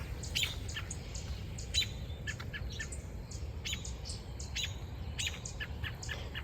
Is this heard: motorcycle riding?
no